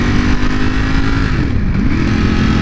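A 2020 Ducati Panigale V4 R being ridden on a sunny day, its engine a loud, close, continuous drone whose pitch dips briefly and then climbs again as the revs change.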